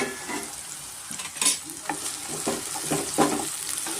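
Brinjal pieces fry and get stirred in a pan, giving a soft sizzle broken by scraping, clattering stirs at irregular intervals, close and moderately loud with no voices.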